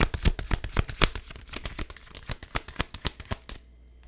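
Tarot cards are shuffled by hand for a reading, a close rapid series of crisp riffling slaps and flicks in an uneven rhythm that stops abruptly near the end.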